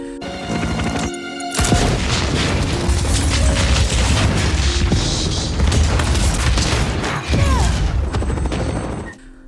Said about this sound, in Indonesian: Parker meledakkan bom di pesawat itu